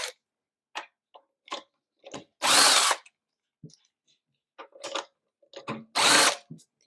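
Short bursts from a power tool spinning off the lug nuts on a wheel of an 8th-generation Honda Civic Si, two long loud whirring runs with ratcheting clicks and handling clatter between them, close up and with no talking.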